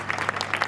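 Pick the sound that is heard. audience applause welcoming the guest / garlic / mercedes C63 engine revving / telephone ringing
audience applause welcoming the guest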